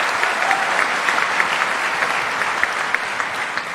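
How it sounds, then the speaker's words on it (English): Dense audience applause at a live public conversation event, many hands clapping steadily and loudly for the full span without a break, a continuous close crowd texture. "All these claps are for you."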